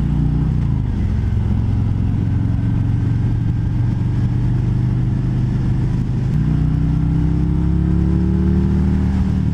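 A 2020 Harley-Davidson Road King Special FLHRXS being ridden, its engine a deep, steady rumble with rising pitch as it accelerates and a shift partway through, loud and close with constant wind noise.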